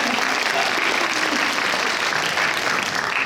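Dense, steady applause from a school admission briefing audience fills the room, continuous and fairly close, with no talk over it.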